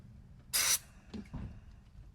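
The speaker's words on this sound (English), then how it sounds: "now I'm going to take the carburetor cleaner here. And I'm going to spray it inside." A single short, sharp hiss of aerosol carburetor cleaner sprayed inside a gas golf cart's carburetor lasts about a quarter second, followed by quiet clinking and faint handling noises.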